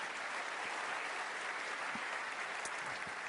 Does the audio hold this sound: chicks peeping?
no